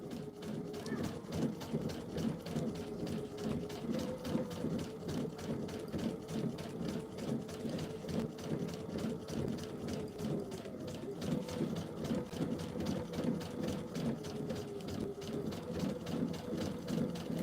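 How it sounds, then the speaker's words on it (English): A sewing machine stitching off the edge of fabric, a fast steady mechanical chatter of needle strokes running continuously at moderate speed, close by, with someone talking at times over it. "And I'm just sewing off the edge."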